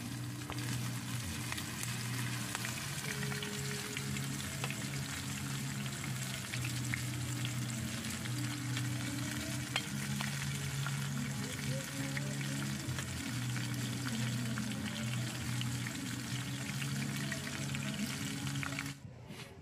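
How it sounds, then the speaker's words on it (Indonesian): Crispy shrimp fry outdoors at a campsite on Bukit Cirimpak, Mega Mendung, Bogor, a continuous crackling sizzle over a low humming background, with faint murmuring voices. "sekarang lanjut lagi goreng udang crispy"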